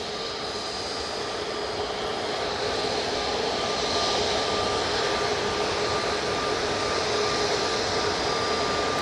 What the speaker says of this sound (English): Got this EasyJet A380 Neo about to come on. Going off to Belfast.